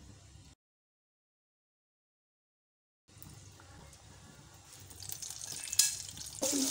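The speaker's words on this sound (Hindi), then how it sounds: "अब इन्हें दोबारा से हम फ्राई कर रहे हैं।" Homemade chicken nuggets being fried a second time in oil over a medium-low flame: a soft sizzle that fades in after a few seconds of silence, then builds with occasional crackles and pops, close by, with no talking.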